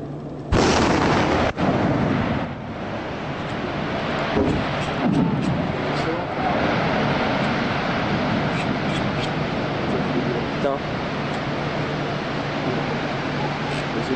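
An underwater explosion: a sudden loud deep blast followed by a long, heavy rumbling wash of noise that persists for many seconds, with a few later thumps and faint voices underneath.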